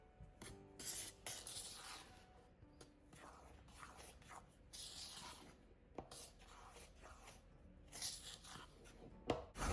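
A wooden spoon scrapes and rubs through a thick cookie dough of flour, salt and baking soda in a bowl, soft irregular strokes close by and quiet, with a sharper knock at the end.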